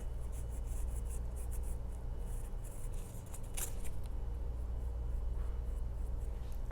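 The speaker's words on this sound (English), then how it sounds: "So I'll kind of just sketch around here." A pencil sketches on fabric for a slow stitching project, a steady soft scratching and rubbing that continues throughout at close range over a constant low hum, with no voices.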